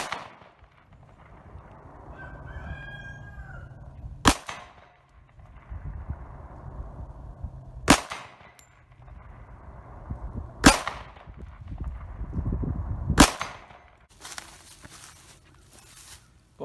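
.45 ACP pistol firing 255-grain cast semi-wadcutter bullets over IMR 800X powder, four sharp, loud gunshots spaced a few seconds apart against quiet outdoor background noise.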